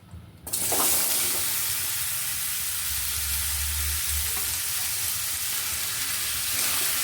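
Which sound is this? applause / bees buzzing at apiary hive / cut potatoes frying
cut potatoes frying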